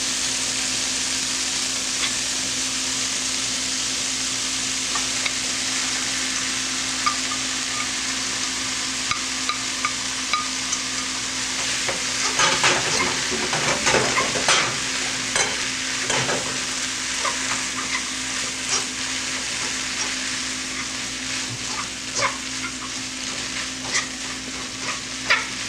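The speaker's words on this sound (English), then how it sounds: "He sauteed the onion and the green pepper again, just for about a minute more so to heat up the pepper." Onion and green pepper sauté in a pan with a steady, loud sizzle throughout, while a utensil stirs and scrapes through the middle stretch.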